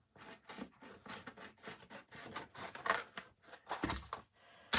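Scissors snip through paper along a marked line for a tunnel book, making a close, quiet series of crisp rhythmic cuts and rustles, roughly two per second, with no talking.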